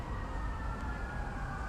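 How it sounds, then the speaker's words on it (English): A steady emergency vehicle siren wails in the background of a city street in Atlanta, continuous and moderately loud over a low rumble of traffic. "The sirens in the background."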